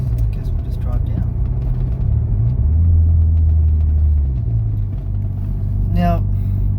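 Volkswagen MK4 GTI with an AGU engine and M3.8 ECU driving on the road, giving a steady loud low engine rumble with a brief rising whine near the end, under light talk.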